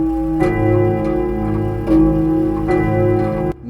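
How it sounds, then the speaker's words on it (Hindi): A heavy clock ticks with slow, resonant strikes at regular intervals over a sustained ringing drone, loud and close, cutting off abruptly at the end, with no voices. "भारी घड़ी की आवाज पूरे प्लॉट में गूंज रही थी।"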